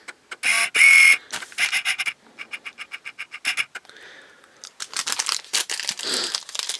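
A sealed package of LEGO Star Wars and POGs is torn open, with close, sharp bursts of crinkling plastic and ripping wrapper coming in quick irregular bursts, separated by brief quiet moments.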